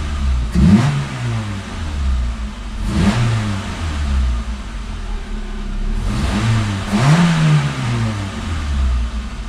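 A Peugeot 206 with a TU JP5 petrol engine, fitted with a new ignition barrel, fires up and revs repeatedly in sharp, loud rising bursts over a steady running rumble, with no talking.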